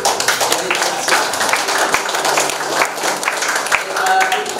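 A congregation in Tenom, Sabah, Malaysia gives loud, dense applause at a church gathering, a sustained roar of many hands clapping together with voices mixed underneath.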